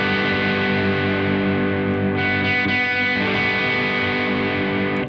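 A distorted electric guitar strums a sustained major chord, loud and close, with a thick saturated buzz that rings on for several seconds, fretting briefly shifting partway through before the chord holds.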